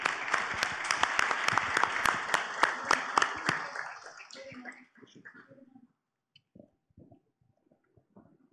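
A crowd applauds loudly for Humayun Saeed, with sharp claps over a dense rush of clapping that thins out after about four seconds into a few scattered, fading claps.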